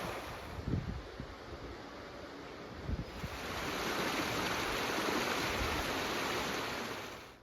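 The River Goyt flows steadily in a country park near Stockport, a broad soft wash of moving water with a few low thumps early on, swelling slightly midway and fading at the end.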